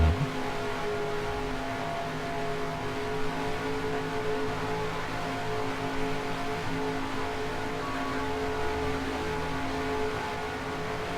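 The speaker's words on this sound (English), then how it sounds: "I can hear it revving a ricer outside that they do every now and then" A car engine held at steady revs in the distance at an auto shop across the street, a continuous droning hum with tonal harmonics that stays even and fairly loud for the whole stretch, with no talk over it.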